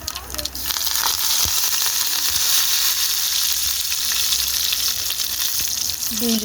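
Black mustard seeds and curry leaves hit hot oil and fry in a loud, steady sizzle with crackling pops throughout, a few sharper spatters standing out against the hiss.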